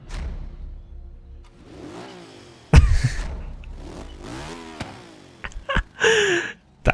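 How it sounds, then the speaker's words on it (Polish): Car fitted with a motorcycle engine in Forza Horizon 3, cranking over and then revving loudly in sharp bursts, with clattering and a rising whine toward the end. "Jest tu włożony silnik z motocykla."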